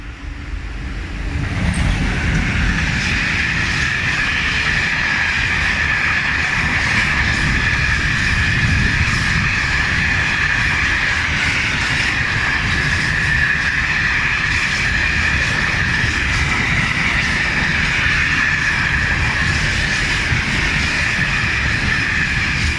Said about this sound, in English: this is the freight train, so it's quite noisy and quite long